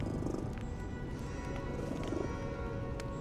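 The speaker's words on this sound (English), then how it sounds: "The cat likes me now." A cat purrs in the video game Lies of P, a close, continuous low rumble with soft regular pulses, steady and unbroken throughout.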